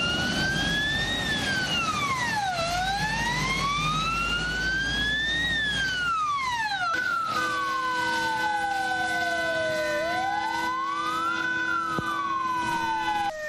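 A fire engine siren wails at a highway accident scene, a loud rising and falling sweep that switches partway to a second, slower siren pattern, continuous throughout with no voices.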